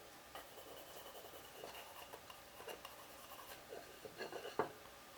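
Pencil lines marking out the waist of a wooden mash paddle, a quiet scratchy rubbing of graphite on wood in short strokes, faint and close, with no talking.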